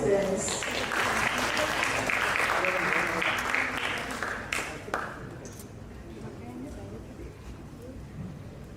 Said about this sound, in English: please give another round of applause for our participants